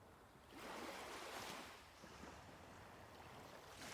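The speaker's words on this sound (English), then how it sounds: "The gentle tide. The quiet lapping of small waves arriving one after another." Small waves lap softly on a beach shore at sunrise: a faint, airy wash that swells and recedes gently, with no voices.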